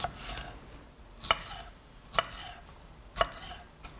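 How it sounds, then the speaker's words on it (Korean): A kitchen knife cuts bell pepper into thin strips on a board, four crisp, evenly spaced chops over quiet background, close and clear with no voices. "이런 벨페퍼도 이렇게 길게 가늘게 이렇게 썰어서"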